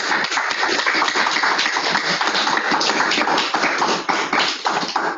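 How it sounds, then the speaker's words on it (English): An audience applauds at the end of an academic talk on sap-sucking insects and their symbionts, a dense, steady patter of many hands that holds for several seconds before fading. "we even have people clapping"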